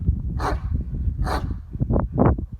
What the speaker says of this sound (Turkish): Arkadaşlar kafesin içinde köpekler daralıyor.